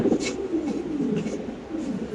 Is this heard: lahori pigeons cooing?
yes